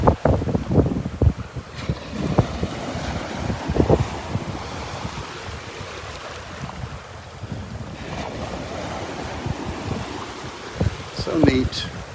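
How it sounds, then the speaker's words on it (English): Strong gusting wind buffets the microphone on a beach at Delnor-Wiggins, with surf washing in the background and rumbling gust bursts throughout, sharpest near the start and end. "That wind is really picking up. That wind is getting strong now."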